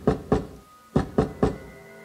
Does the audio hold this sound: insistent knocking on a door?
yes